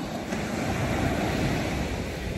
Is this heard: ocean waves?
yes